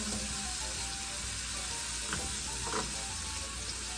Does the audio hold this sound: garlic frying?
yes